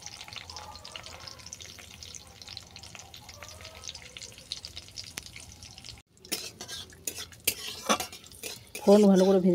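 Panch phoron spices and jute leaves frying in a pan for a Bengali fish curry, a faint steady sizzle at first, then sharp clinks and scrapes of a utensil against the pan as it is stirred.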